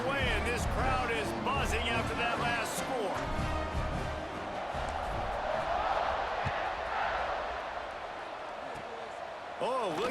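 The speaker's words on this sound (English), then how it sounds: "this crowd is buzzing after that last score" A football stadium crowd keeps up a loud, continuous buzz after a score while a commentator talks over it throughout, with a few sharp thumps and one brief drop in the noise.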